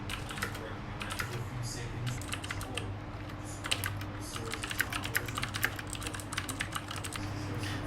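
Fingers type on a mechanical keyboard fitted with a walnut wood wrist pad, producing a rapid, continuous patter of close, crisp key clicks over a low background hum.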